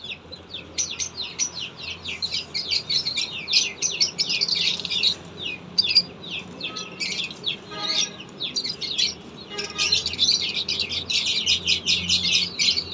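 Pigeons in a loft, including a king-size pigeon, fill the air with dense, continuous chirping and calling, close and lively, with brief dips in activity before resuming.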